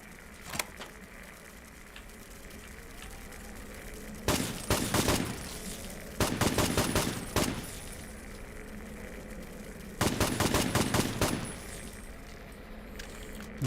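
Automatic rifle fire in Fallout 3 sounds in three distinct sustained bursts separated by quieter stretches, sharp and close against a low ambient background.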